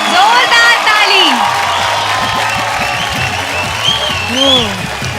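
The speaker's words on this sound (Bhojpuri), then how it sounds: "जोरदार ताली" A studio audience at a Bhojpuri talent-show episode bursts into applause with scattered cheers and whoops, loud at first and then a steady clatter of clapping, with a voice calling out over it.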